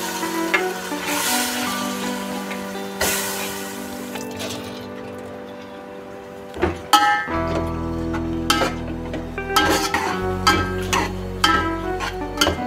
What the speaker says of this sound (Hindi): ये प्याज का ही ऑयल है, इसमें मैं गोश्त डाल दूँगी और गोश्त को फ्राई कर लूँगी।